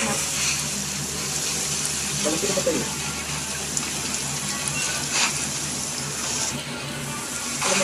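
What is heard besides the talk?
rain falling in the video game Genshin Impact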